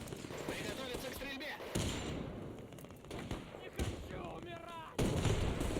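Tank cannon blasts and battlefield gunfire in the Soviet campaign of the war game Men of War II, several sharp booming shots spaced apart over combat noise, with someone talking throughout.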